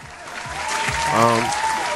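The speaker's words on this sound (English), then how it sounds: "let's clap that up" A short burst of clapping from a small group, rising briefly with a couple of voices mixed in.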